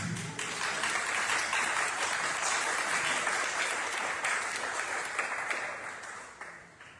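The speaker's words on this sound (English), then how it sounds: "I want to give a round of applause to the judges." A round of applause for the judges at an oratorical contest, a full room clapping steadily and loudly before tapering off near the end.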